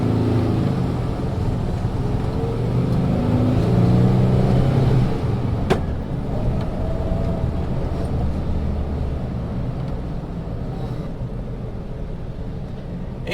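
A Volkswagen T2 van's engine drones loudly and steadily while driving in second gear, a continuous low rumble with a sharp knock partway through and no talk.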